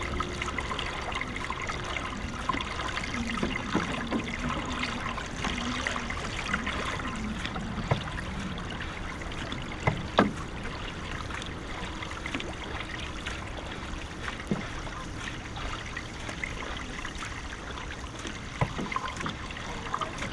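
Continuous flowing and trickling creek water, heard from a canoe during a marathon race, steady and close, with occasional small splashes and gurgles and no talking.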